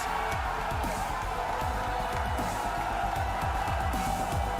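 A home crowd at the Halo Championship Series grand final in Salt Lake City roars and cheers continuously, a dense, loud wash of arena noise with no pauses.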